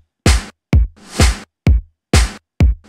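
A dry snare sample played alternately reversed, swelling up and cutting off, and forward with sharp attacks, six hits in a steady pattern, close and loud with no voices.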